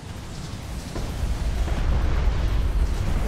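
A hostile interceptor is destroyed in the video game Deserts of Kharak, heard as a rumbling explosion that swells and keeps booming, loud and broad, with no voices over it.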